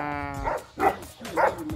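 Large puppies bark three times in a loose rhythm, the barks fairly close and moderately loud over a low background hum.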